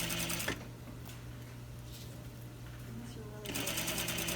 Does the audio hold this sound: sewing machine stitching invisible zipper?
yes